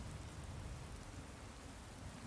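Steady rain falls in the video game Skyrim, a constant, quiet hiss of raindrops with no talk over it.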